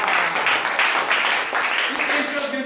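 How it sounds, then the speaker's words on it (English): Audience applause at a game show taping, steady clapping throughout with a voice tone appearing faintly near the end. "Let's give a round of applause."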